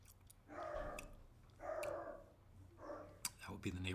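A neighbor's dog barks in short bursts somewhere nearby, three broad repeated sounds spaced across the moment, with people talking over and between them.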